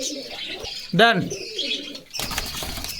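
Pigeons newly bought at a farm coo briefly and sharply at close range while being handled, followed by a burst of wing flapping, and someone speaks around them.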